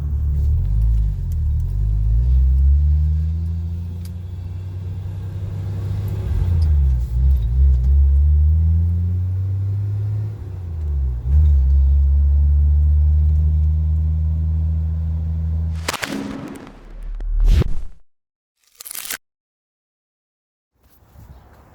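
A Rover car driving, its engine a loud, steady low rumble heard from inside with slow rises and falls in pitch as it revs and shifts, ending abruptly in a few sharp knocks and near-silence.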